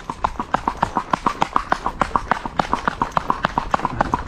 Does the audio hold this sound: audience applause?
no